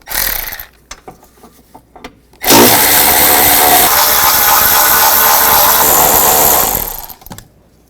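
A power tool with a 10mm socket running continuously for about four seconds to remove a bolt and two nuts from the passenger-side engine mount of a 2009-17 Chevy Traverse, loud and close, preceded by a few clicks and ratchet taps.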